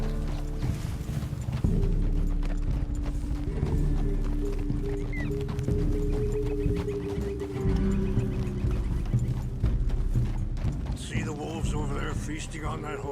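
Horse hooves clip-clop at a steady riding pace in the Red Dead Redemption 2 video game, joined by occasional whinnies and mechanical creaks, set beneath continuous orchestral music and spoken dialogue.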